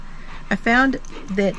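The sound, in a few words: dog whimpering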